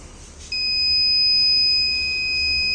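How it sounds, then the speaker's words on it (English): A collision-detection proximity sensor's alert buzzer switches on and holds a single steady, piercing electronic tone, loud and close, with no talking. "if it is below 20, then only the buzzer and light will be on"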